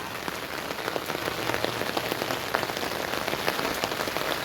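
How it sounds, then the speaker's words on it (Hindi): Heavy rain pours steadily onto surfaces nearby, a dense, even hiss of countless drops with scattered louder splats, continuous and fairly loud throughout with no voices. "बहुत तेज़ बारिश हो रही है।"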